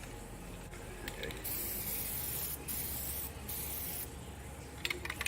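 A spray can misting stencil paint onto an MB Jeep, a sustained hiss with a few short bursts and pauses, plus some clicking handling noises near the end.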